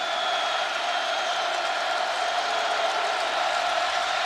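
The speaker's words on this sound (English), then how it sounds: "Crowd comes alive." A football stadium crowd at a 2004 Penn State home game against Northwestern, giving a steady, sustained roar of cheering that holds at an even, loud level throughout without breaks.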